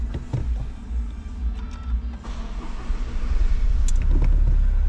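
A Toyota GR Yaris turns over and fires up, a starter whir followed by the engine catching and settling into a building, steady low rumble close by, with small clicks from the cabin.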